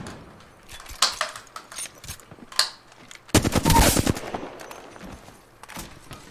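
Gunfire striking the player in the Apex Legends battle royale game: scattered single shots, then a dense, loud burst of rapid fire near the middle, followed by a few more isolated hits.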